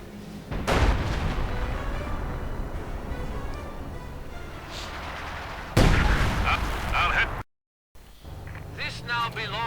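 An artillery barrage booms in Company of Heroes 2, with sharp loud blasts near the start and again around the middle over a constant bed of battle noise, briefly going silent before resuming.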